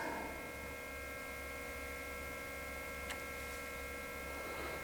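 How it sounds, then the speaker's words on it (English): Cooling fans of a Bambu Lab X1 Carbon 3D printer with a Bento Box fitted, running as a steady, even whir with a constant electrical hum underneath and no talking. "You can hear the fans running."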